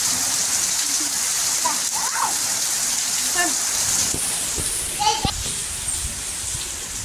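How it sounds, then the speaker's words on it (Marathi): Steady rain pours down in a constant dense hiss, with faint voices and children's calls in the background. "परत पावसाने जोरदार हजेरी लावलेली आहे"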